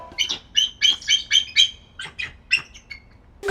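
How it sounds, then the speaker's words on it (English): Bald eagles in an aviary exhibit give a run of sharp, high chirping calls, about a dozen quick piping notes in loose bursts, clear and close. "Nearby at the aviary exhibit, we found a hawk, an owl, some vultures, and some chatty bald eagles."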